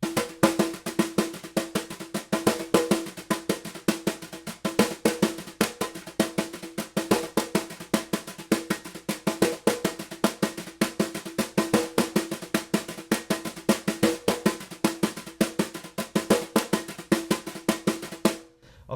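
A samba groove is brushed on a drum kit, with tambourine-like accents in a dense, even stream of quick strokes and regular emphasized pulses, close and continuous for the whole stretch.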